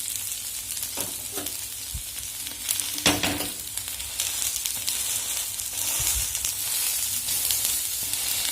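Vegetable egg dosa roasting in plenty of oil on a pan, a steady broadband sizzle throughout with scattered scrapes and taps of a ladle against the pan.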